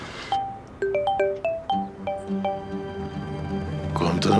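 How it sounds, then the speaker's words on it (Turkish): A mobile phone rings with a chiming, bell-like melody of repeated bright tones, moderately loud and clear, continuing through the clip under a low background rumble. "Çalan benim telefon ama ellerim bağlı size zahmet."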